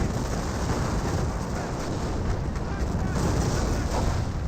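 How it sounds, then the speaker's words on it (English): Battle explosions in the World War II strategy game Company of Heroes, a dense rumbling barrage of blasts and artillery that rolls on continuously at a steady, loud level. "Lots of explosions raining on in."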